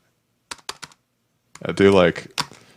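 Keys on a computer keyboard tap out a few sparse, crisp clicks, interrupted by a brief vocal sound before one more keystroke.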